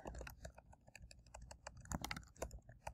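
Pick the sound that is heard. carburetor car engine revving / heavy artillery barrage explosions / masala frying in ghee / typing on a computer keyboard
typing on a computer keyboard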